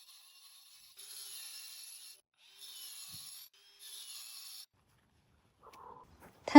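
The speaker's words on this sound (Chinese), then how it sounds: "他用那个锯子来锯。" A power saw cuts into a stone brick for backyard masonry edging, three separate high, grinding bursts of about a second each with short gaps between, followed by a few faint knocks.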